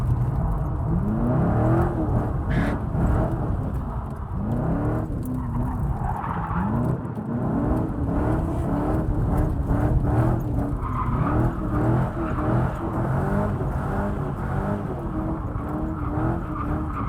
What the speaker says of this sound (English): Letting Matthew swing the Corvette, see how he does.